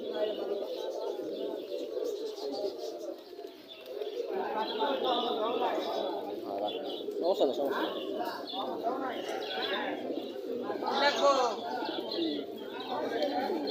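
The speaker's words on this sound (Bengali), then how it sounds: "এখন যে কবুতরটি দেখতে পাচ্ছেন" Pigeons coo repeatedly in low, throaty murmurs, fairly close, at a pigeon market, with occasional chirps and people talking in the background throughout.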